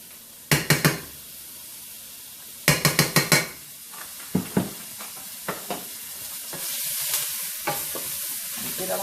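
Onions frying in butter in a pan for cube steak, with bursts of sharp utensil scrapes and taps against the pan over a steady, rising sizzle, no voices.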